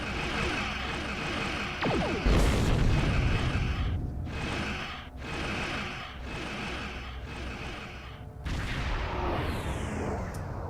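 Weapons fire and explosions in the space combat game Star Trek Online: a sharp blast followed by repeated whooshing bursts and rumbling booms, loud and close, with no talking.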